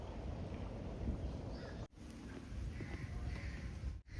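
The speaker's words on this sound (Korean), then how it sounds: "바다가 있는 해안 절벽 쪽에서 시원한 바람이 불어옵니다" Cool sea breeze blowing across the deck walkway by the coastal cliffs of Odongdo island, Yeosu, a steady broadband rush with brief dropouts, no voices.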